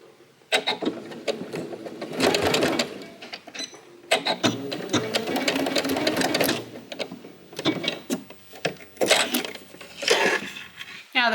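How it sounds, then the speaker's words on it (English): A sewing machine fitted with a zipper foot stitches across and then back-stitches, running in several close, loud bursts of rapid mechanical whirring separated by short pauses. "and then stitch across and back stitch."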